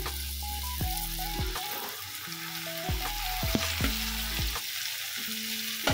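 Sponge gourd (patola) sizzling as it fries in a pan, a steady close hiss broken by repeated scraping stirs of a utensil, with no talk.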